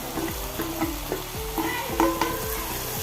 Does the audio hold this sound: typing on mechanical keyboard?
no